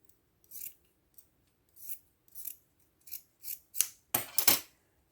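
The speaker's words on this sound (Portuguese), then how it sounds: "Vou cortar todo o excesso." Scissors trim excess fabric from a sewn plush animal comforter, with about eight crisp snips spaced out, growing louder and quicker toward the end, in a quiet room with no talk.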